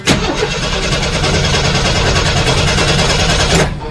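A 1983 Jeep CJ7 engine cranks steadily on the starter, out of gear with the clutch held, a continuous rhythmic churning that runs loud and close for about three and a half seconds without catching, then cuts off.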